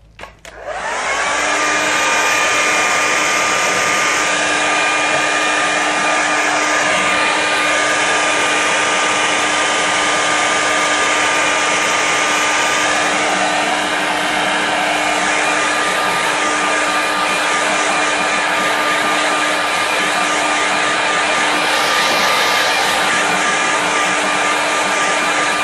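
A hair dryer blows on a watercolour painting, switching on and running as a loud, steady whine with an even high-pitched tone for the full duration, close by and alone without speech.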